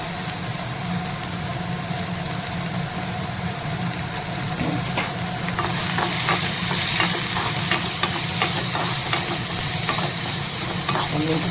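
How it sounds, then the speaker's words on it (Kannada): Chopped onions frying in hot oil with curry leaves in a pan, village-style masala dish, a steady broadband sizzle with occasional stirring scrapes, growing louder and brighter midway through. "ಕರಿಬೇವು ಆದಮೇಲೆ ನಾನು ಎಣ್ಣೆಗೆ ಎತ್ಕೊಂಡಿರೋ ಈರುಳ್ಳಿ ಹಾಕ್ತಾಯಿದ್ದೀನಿ"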